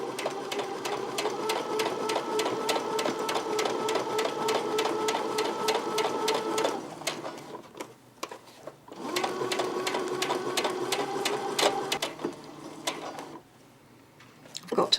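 A sewing machine stitches in two long, fast, rhythmic runs of needle clatter, separated by a short pause with a few clicks.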